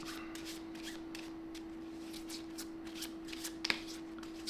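Playing cards from a board game being shuffled by hand, a quiet run of rapid papery riffles and slides close up, ending with a couple of sharper taps, over a faint steady hum.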